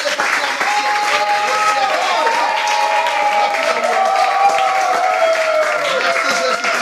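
A church congregation applauds and acclaims during a worship service, with sustained, fairly loud clapping mixed with raised voices and cheering.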